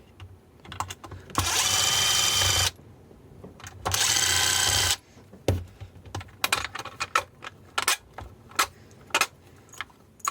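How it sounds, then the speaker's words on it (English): A small power driver whirs in two sustained bursts while undoing M4 screws on an e-bike battery case, followed by scattered clicks and light taps of handling the parts up close. "let's undo these 4 screws as well. Pretty sure these are M4 screws by the looks of them."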